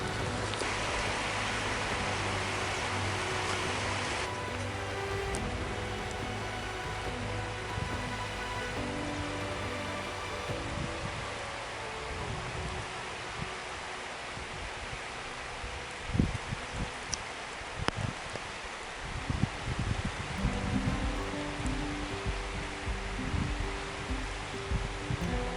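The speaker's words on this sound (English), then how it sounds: "The wind is getting stronger." Strong wind roars steadily through the Alaskan mountains during an adventure race, a broad continuous rush with occasional gusty thumps and buffeting against a microphone.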